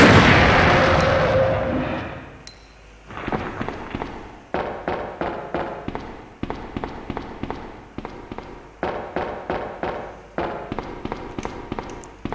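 Rapid bursts of gunfire from Resident Evil 2, rounds fired in quick repeated volleys with brief pauses between, close and sharp after a loud opening blast.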